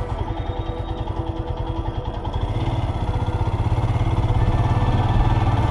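A motorcycle engine riding over sandy ground, running close by with a steady pulsing throb that grows slightly louder and fuller partway through, with no voices.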